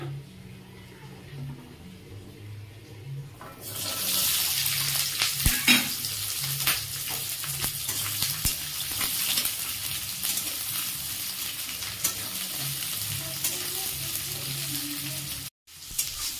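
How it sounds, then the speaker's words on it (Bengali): Garlic, onion and green chili hit hot mustard oil and burst into a loud, steady sizzle after a quiet start, continuing close with light stirring scrapes and a brief cut near the end. "তেলটা আমার প্রায় গরম হয়ে গেছে, এর মধ্যে আমি রসুন, পেঁয়াজ আর কাঁচা লঙ্কাটা দিয়ে দেবো।"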